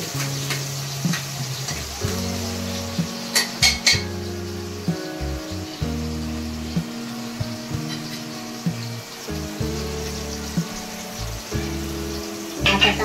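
Tomatoes and chillies stirred and frying in a pan for urad dal make a continuous sizzle with repeated scraping stirs, set over steady tonal background music.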